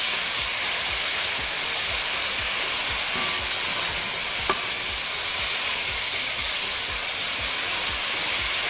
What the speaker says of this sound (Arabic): هنزل فص الثوم الاول كده يتشوح كده ويبتدي ريحته تطلع